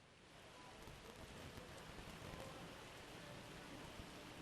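Rain falls at the finish area of a bobsleigh track during a four-man World Cup race in Winterberg, a steady, broad hiss that stays faint and even throughout.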